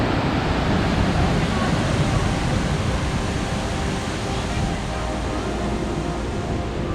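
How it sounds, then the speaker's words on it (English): A steady, dense roar of a waterfall dropping about 60 to 70 feet at Carson Pass fills everything, loud and unbroken, with a voice faintly mixed in beneath it. "That is a big waterfall, dude."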